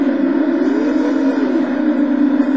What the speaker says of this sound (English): And it has a weird kind of sound. I think it's the sound of a Porsche engine.